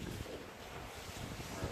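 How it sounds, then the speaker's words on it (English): Wind blows steadily outside an open door, a broad continuous rushing roar with slight gusty swells and no pauses, fairly quiet and even. "it's really windy right now."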